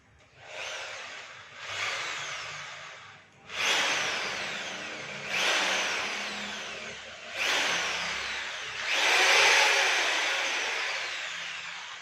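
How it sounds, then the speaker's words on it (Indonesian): An Orion HD600S 13mm impact drill, a concrete drill, revs up in repeated bursts, about six pulses of whirring, rattling power separated by short pauses, close and loud. "kita akan coba hidupkan bor betonnya"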